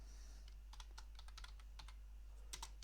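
Typing PHP code on a computer keyboard, with light, quick key clicks in short bursts and small pauses, close but quiet over a steady low electrical hum.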